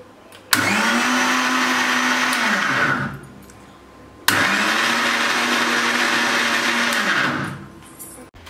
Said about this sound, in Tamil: இப்போ நம்ம சுவிட்சை ஆன் பண்ணி அரைக்க ஆரம்பிச்சிடலாம்.